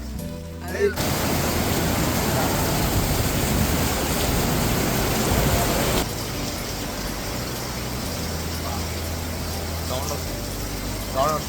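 Steady rain falls in a broad hiss during a boys' trip in Goa, loud and continuous throughout, easing slightly after the midpoint, with faint voices in the background.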